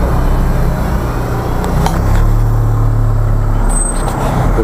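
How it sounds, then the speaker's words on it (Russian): A compact Mini Cooper, a small BMW-built car, rumbles along with steady low-pitched road and engine noise filling the cabin, heard from inside, loud and continuous with a brief high squeak near the end. "Сейчас мы поедем на мини-купере"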